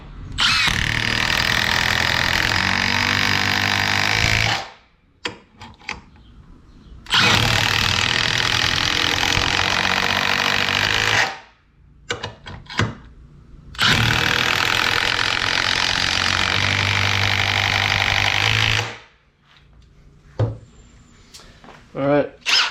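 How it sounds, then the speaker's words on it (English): Milwaukee M18 3/8-inch compact impact wrench on a 3 amp-hour battery at speed 3 with a socket, firing in three long, loud, rattling bursts of about five seconds each, separated by short pauses. "3/8 compact impact wrench, 3 amp hour battery, speed 3"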